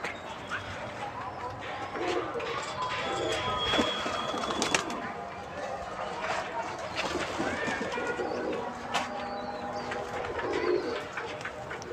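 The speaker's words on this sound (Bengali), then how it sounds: "এই দেখেন সব কবুতর কিন্তু এমনি ঘরে চলে গেছে" Domestic pigeons coo softly as they settle back into their home loft outdoors. A dog barks briefly, birds call in the background and someone talks over it all.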